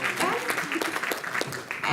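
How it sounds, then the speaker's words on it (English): An audience breaks into a short burst of clapping, a dense patter of many hands, with voices talking over it. "So let's give them a round of applause."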